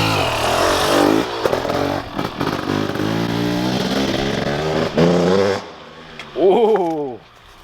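A 2023 KTM 300 SX two-stroke dirt bike engine revs hard and close, rising and falling through several sharp blips before dropping back to a crackling idle and one last quick rev.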